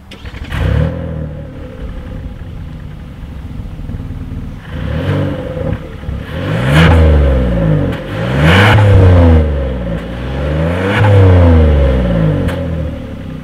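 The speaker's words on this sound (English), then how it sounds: "As always, here is that exhaust clip." A 2020 Kia Telluride revs through its single exhaust outlet with dual tips, starting at a steady idle before three or four loud, rising rev blips that each fall back, recorded close and alone.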